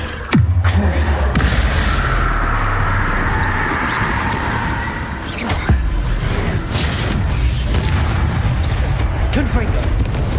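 Confringo explosion spell in Hogwarts Legacy, a Harry Potter video game: sharp booming blasts, one early and another midway, over a busy, continuous game soundscape with a voice in the mix.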